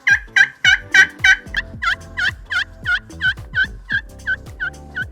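A slate turkey call played by hand gives a close, loud run of about sixteen sharp, rhythmic yelps and cuts, each a short raspy note, with no talking.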